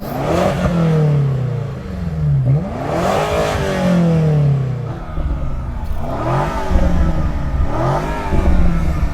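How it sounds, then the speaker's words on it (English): A BMW G90 M5 engine is revved repeatedly from outside the car. Several loud rising and falling revs swell and drop back, ending in a couple of shorter, sharper blips. "So I'm going to rev up my BMW."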